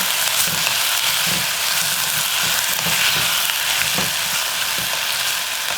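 Meat sizzles steadily in a hot pan with green onion and onion, a dense continuous frying hiss with soft rhythmic scrapes of stirring, close and loud, no talking.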